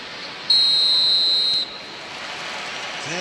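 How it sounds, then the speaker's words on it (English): A referee's whistle at a football match between Manchester United and Coventry: one sustained, shrill blast lasting about a second, clear and loud over a low stadium hum that continues after it stops. "There's the whistle."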